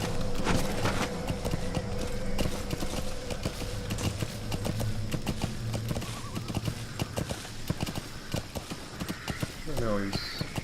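Horse hooves clip-clop steadily in Metal Gear Solid V: The Phantom Pain, set in Afghanistan, with a neigh near the end, under game music and someone talking over it.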